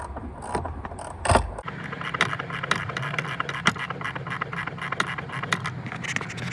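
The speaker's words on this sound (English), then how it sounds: "Now I'm gonna take out the bolt." A bolt being loosened and removed from the e-brake assembly of a Subaru STI or WRX: a sharp metallic clank, then rapid ratcheting clicks and scraping, close up over a steady hum.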